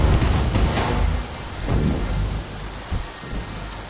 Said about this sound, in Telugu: వెదర్ రిపోర్ట్ లో వర్షం రాదన్నారు.